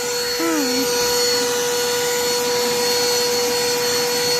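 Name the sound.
vacuum cleaner running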